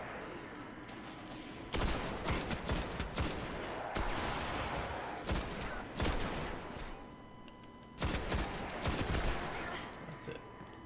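Scout rifle fire in the video game Destiny, separate bursts of sharp, loud shots breaking in about every two seconds over steady background game noise.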